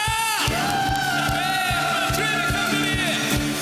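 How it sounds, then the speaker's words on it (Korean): A church congregation at a Korean Baptist Sunday service shouting loudly toward God: a mass of sustained, strained voices over a steady drumbeat, continuous and loud throughout. "하나님을 향해 크게 외쳐라"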